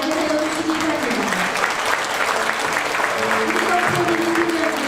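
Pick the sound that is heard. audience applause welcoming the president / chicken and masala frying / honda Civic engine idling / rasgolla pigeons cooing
audience applause welcoming the president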